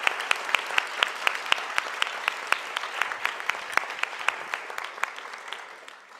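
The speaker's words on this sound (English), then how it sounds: "Okay, let's give this group a big round of applause." Audience at a medical school graduate studies welcome ceremony giving a round of applause, sparse individual claps ringing out distinctly in a steady rhythm, fading toward the end.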